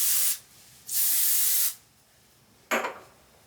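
Dry shampoo sprayed onto hair in two long, close hissing bursts, each under a second, followed by a quieter pause and one short, sharp spritz near the end.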